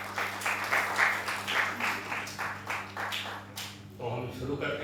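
A theatre audience applauds before a staging of Sophocles' Antigone by Akanksha Theatre Arts: steady, fairly distant clapping from a full crowd that runs continuously, then thins near the end.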